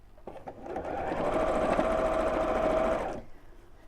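A sewing machine stitches straight across a fabric seam near a zipper slider, running at a steady even speed for about three seconds after a soft start, then stopping.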